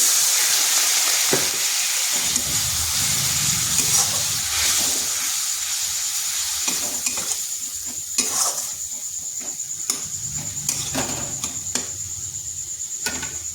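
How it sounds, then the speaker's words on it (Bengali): Spice masala of Kashmiri chilli, cumin and coriander powders sizzles steadily in a pan for a Jhinga egg curry after a splash of water goes in, with a loud hiss and intermittent scraping stirs. "এবার মশলাটা ভালোভাবে কষিয়ে নিচ্ছি। এখানে সামান্য একটু জল দিচ্ছি।"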